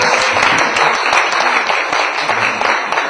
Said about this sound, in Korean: 박수 한번 주겠습니다